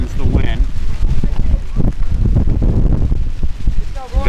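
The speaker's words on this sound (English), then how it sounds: "Here comes the wind." Wind gusts across an outdoor track on a cold, wet day, a loud, rumbling buffet of noise on the microphone that lasts throughout. Muffled voices come through under it.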